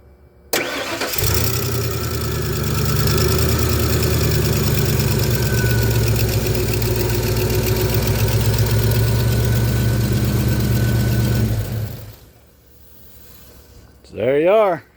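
A Ford F250 truck engine is started after serpentine belt and pulley work and settles into a loud, steady idle up close, then shuts off and is followed by a short sharp squeal.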